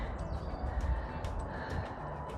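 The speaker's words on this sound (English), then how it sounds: "enjoy the green and the birds singing" Crows cawing outdoors amid greenery near a French coastal town, several harsh calls repeating at a moderate distance over steady background noise.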